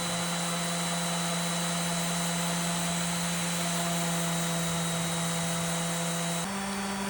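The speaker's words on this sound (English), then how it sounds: "So I needed to sand all the way through them to get it smooth." Power sander grinding across the deeply grooved wooden top of a curbside nightstand, a loud, steady whine that holds without a break and shifts pitch slightly near the end.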